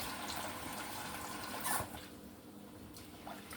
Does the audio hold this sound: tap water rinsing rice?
yes